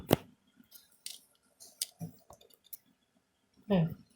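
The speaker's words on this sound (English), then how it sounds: "I don't need so much wire, so I need to cut this out" Wire being snipped off an electronic ballast for a fluorescent light, a few sharp close clicks from the cutters spread over a few seconds, with a brief rustle and clunk of handling at the end.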